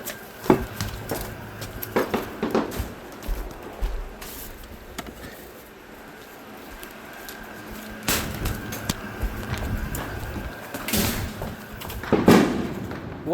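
A two-stage strobe firework rocket malfunctioning on the Fourth of July, giving scattered crackling pops and bangs at a moderate distance, irregular and uneven, with faint background noise between bursts.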